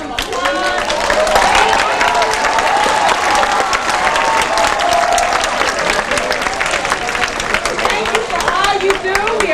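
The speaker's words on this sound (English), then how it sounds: "You can have some applause." A school audience applauds teachers who have stood up at a mock trial competition event, steady dense clapping with some cheering filling the whole stretch, loud and close.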